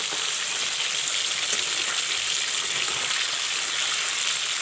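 Fish fries in a pan, a steady dense sizzle and crackle of hot oil that stays loud and even throughout, with no voices.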